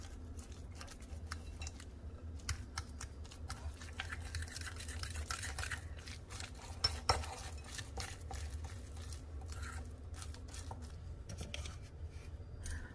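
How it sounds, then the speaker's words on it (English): Canned tuna being mixed with salt, garlic powder and onion powder in a bowl, a steady close scraping and stirring that runs throughout with no talk. "now I'll mix and combine well"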